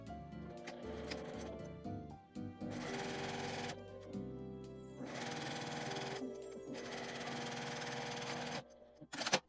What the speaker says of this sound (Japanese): 開いて表側を内側にして1センチの縫い代で縫います。